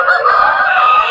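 A rooster crows at a busy century-old poultry market in Paramathi Velur, the call sustained and fairly loud over steady crowd noise and clucking birds.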